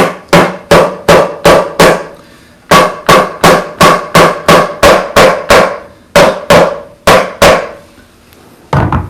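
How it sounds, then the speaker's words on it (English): A series of sharp soft-hammer blows on a wooden mortise-and-tenon joint, struck in quick bursts of four to six with short pauses between, loud and close. "Have a soft hammer that doesn't mar the face"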